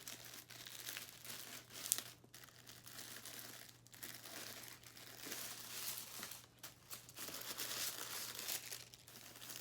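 Wrapping paper on a Chanel package being peeled and torn off, quiet close crinkling and rustling in uneven bursts, with no talk.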